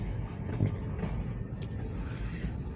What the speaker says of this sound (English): There's the end of Norfolk Southern C29.